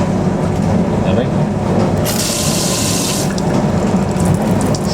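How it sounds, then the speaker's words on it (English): Water runs steadily from the tap of a Proline PDW041 countertop dishwasher, a continuous close hiss that swells brighter for about a second midway, with a low hum underneath. "Watch what happens when you open the tap."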